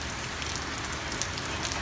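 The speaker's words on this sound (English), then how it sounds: "She's out running around in the pouring rain." Heavy pouring rain beating steadily on outdoor surfaces, a dense, loud, unbroken hiss with scattered drop patter throughout.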